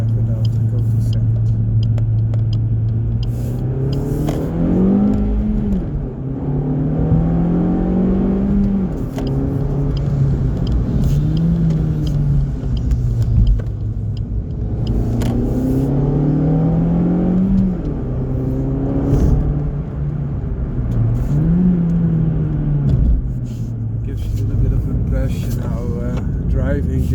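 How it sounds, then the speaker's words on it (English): A Suzuki Swift Sport Hybrid BSL Edition hot hatch on HKS lowering revs up repeatedly, its engine note rising and falling through gear changes including a shift into second, with someone talking over the loud, close cabin sound. "then I will rev it out and go to second."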